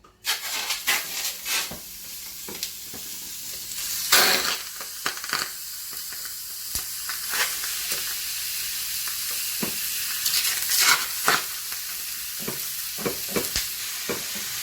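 Steady crackling sizzle of chicken frying in a hot pan, with intermittent stirring clatter and bursts of spitting oil.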